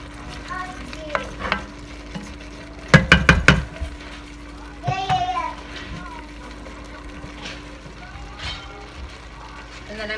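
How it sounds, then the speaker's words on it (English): A spoon stirs Irish stew in a pot with soft scraping and bubbling under a low steady hum, broken by a sharp cluster of clinks near the middle and a brief voice-like sound. "I'm just going to give that a quick stir"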